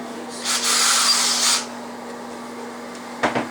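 A handheld power drill spins up in a single whirring burst of about a second over a low steady hum, then gives a brief second blip.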